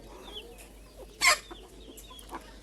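Desi chickens raised free-range give soft, scattered clucks over a quiet outdoor background, with one louder, sharper call near the middle standing out from the rest.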